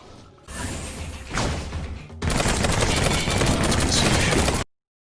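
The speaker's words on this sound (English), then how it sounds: "My ranged weapon of choice is the machine guns." Rapid machine gun bursts in the Samurai Jack: Battle Through Time video game on PS4, a rattling stream of shots building after an opening whoosh into a loud, sustained volley that cuts off abruptly.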